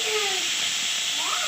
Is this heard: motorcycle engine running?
no